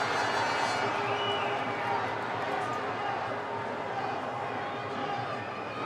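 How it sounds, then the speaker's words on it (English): Boxing arena crowd cheering during the Amir Khan versus Julio Diaz fight, a broad steady roar of distant voices and cheers beneath close commentator talk. "Crowd are getting into this one."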